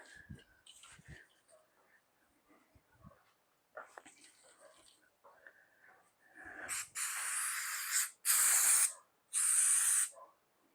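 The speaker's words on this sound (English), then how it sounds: "Spray this off with some brake clean, alcohol, brake clean." Faint movement and brief sounds give way to three loud aerosol brake cleaner spray bursts on a Dodge D-150 truck, each a sharp hiss lasting about a second, close by.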